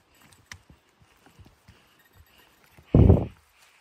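A horse walking on a steep hiking trail toward Lower Lena Lake in Olympic National Park, its hooves giving faint, irregular clops at a distance, followed by a brief loud burst of noise near the end.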